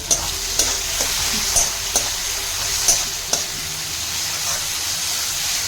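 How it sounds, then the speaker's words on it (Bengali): Ginger garlic paste hits softened tomatoes in a frying pan for a Bengali rui fish curry, a close, steady sizzle broken by sharp, regular spoon taps and stirring scrapes about every half second. "টমেটোটা সফট হয়ে গেছে, এবার এতে দিয়ে দিচ্ছি 1 চামচ আদা রসুন বাটা"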